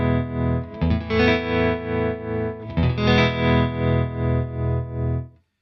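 Electric guitar played through a Marshall JTM45 and a Hughes and Kettner amp, each panned hard to one side, with a trembling effect: sustained, distorted chords swell and pulse in a steady rhythm, loud and alone, with no talk.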